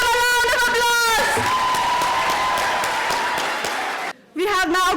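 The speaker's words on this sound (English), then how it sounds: "Please give them a round of applause" A nursery graduation audience applauds the band: loud crowd clapping swells after a sustained tone fades, mixed with a few cheers, then cuts briefly before a voice speaks over the tail.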